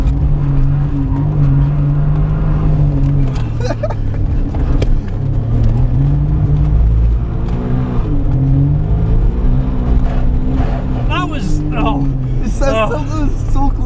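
A Suzuki Cappuccino turbo kei car's small engine drones and revs while drifting, holding a steady loud hum with shifting pitch and tire squeals toward the end, with someone talking over it throughout.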